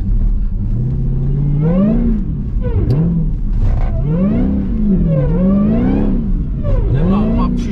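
A car driven on the road revs and accelerates repeatedly, the engine note rising and falling in several surges, loud and close from inside the cabin, with a voice murmuring over it.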